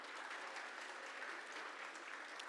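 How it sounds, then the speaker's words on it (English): Steady applause from an audience, a dense even patter of clapping filling the whole moment with no voices over it. "A big round of applause for her, please."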